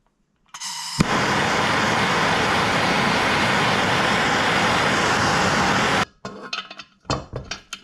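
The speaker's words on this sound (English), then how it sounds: "I am going to hit this with just a little bit of heat" A torch heats a bearing in the swingarm of a CRF150R supermoto motorcycle, giving a loud, steady, close roaring hiss for about five seconds. It cuts off abruptly and is followed by scattered clinks and handling noises.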